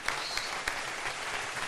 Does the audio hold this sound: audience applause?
yes